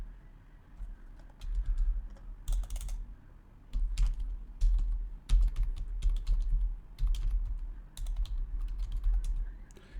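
Steady typing on a computer keyboard as a command is entered, with close, irregular bursts of key clicks and brief pauses, no talking.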